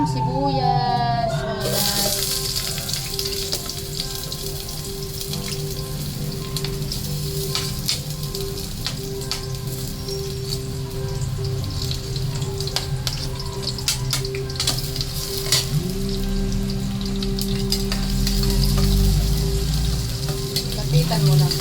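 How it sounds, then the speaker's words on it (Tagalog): Onions sautéing in a pan, a steady crackling sizzle with occasional stirring scrapes; a voice speaks briefly at the start. "Gigisa na tayo ng sibuyas."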